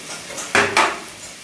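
Chopped fava bean and potato vegetables are tipped into a pan of spices with two quick clattering thuds close by, then a fading sizzle.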